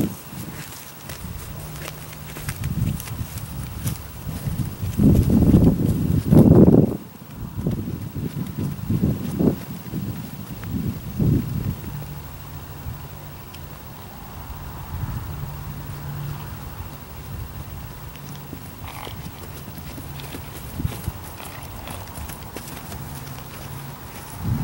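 A Missouri Fox Trotter mare is led on foot, and her hooves land in soft, irregular clip-clops, loudest for a few seconds early on and then fading to light steps under wind noise.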